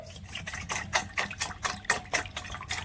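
Water is poured into a bowl in a series of short, splashing gushes, close and fairly quiet, with no speech.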